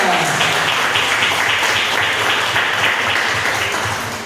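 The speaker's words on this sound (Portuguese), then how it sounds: "Vamos aplaudir bem forte ao Senhor Jesus." Congregation in a church applauds loudly together, dense rhythmic clapping with a low hum underneath, steady for a few seconds before tapering off slightly at the end.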